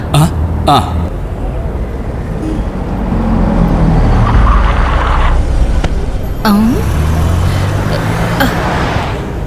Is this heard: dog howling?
no